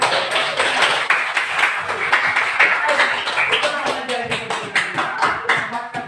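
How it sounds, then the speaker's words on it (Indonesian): A classroom of students applauds after a project presentation, with crisp claps in a loose, fairly regular rhythm and voices murmuring underneath. "Kita tepuk tangan."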